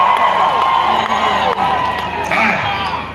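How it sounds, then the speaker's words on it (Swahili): A crowd at an outdoor political rally in Kenya claps and cheers in a loud, dense, continuous roar of applause mixed with shouts and whoops, with voices rising through it. "Pigia makofi."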